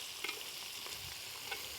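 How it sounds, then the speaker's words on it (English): Pork chili meat browns in a pan, a close, soft continuous sizzle and crackle with a couple of brief stirring scrapes. "As you can hear, it's sizzling right along"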